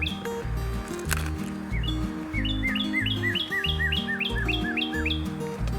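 Several birds chirp and tweet in quick repeated phrases, fairly close, over a steady low rhythmic background.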